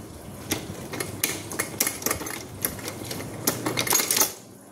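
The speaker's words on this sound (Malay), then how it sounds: "So kita turun balik, kita longgarkan skru." A 2-ton hydraulic jack has its release screw loosened, producing a close, steady run of sharp metallic clicks and ratcheting taps, with a short pause before a final cluster.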